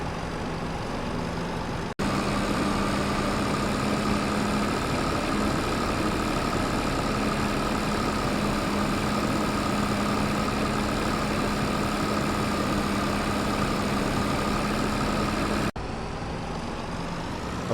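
A tractor engine idles in a farming video game, a steady low, heavy rumble that runs unbroken and loud, with a brief shift in tone at the start and end.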